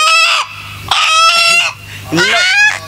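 Chickens cluck and a rooster crows in loud, repeated bursts, with a steady low hum underneath and no talk.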